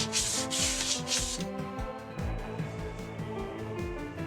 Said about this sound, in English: Give the leather just a quick sand, just to take off any hard edges or cut marks.